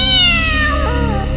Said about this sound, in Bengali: বিড়ালটা ডেকে উঠল